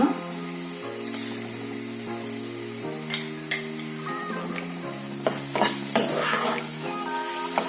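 A thickening sapota (chikoo) burfi mixture with a spoon of ghee is stirred in a pan, soft sizzling and periodic scraping strokes against the pan under steady background music.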